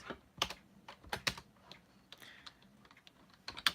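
Keystrokes on a computer keyboard come in irregular bursts, with crisp clicks clustered in short runs and pauses between them, close and clear with no talking.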